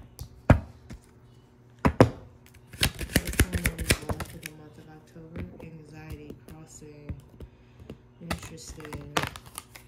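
Tarot cards are shuffled in quick bursts of crisp, close riffling and tapping, with irregular pauses between the bursts.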